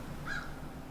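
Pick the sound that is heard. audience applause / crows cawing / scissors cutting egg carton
crows cawing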